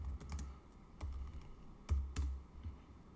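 Quick typing on a computer keyboard, a burst of crisp clicking keystrokes in uneven clusters, close and clear with no talking.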